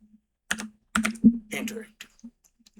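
Keys clatter on a computer keyboard as HTML code is typed, a run of close, crisp clicks in uneven bursts with short pauses between them.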